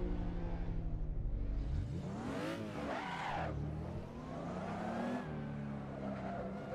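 Simulated car engine in Assetto Corsa revving and swelling while drifting sideways around a corner, pitch climbing and falling with throttle in one continuous loud drone, no talking.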